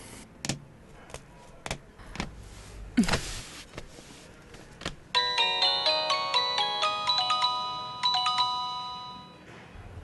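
A few sharp clicks and knocks, then a phone ringtone plays a bright repeating electronic melody, loud and clear, pausing briefly before starting again.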